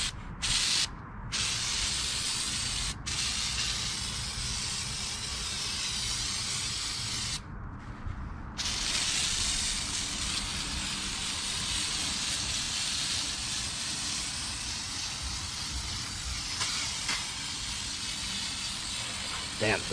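Water sprays steadily and loudly across a car's engine bay, a continuous close hiss with a few brief breaks.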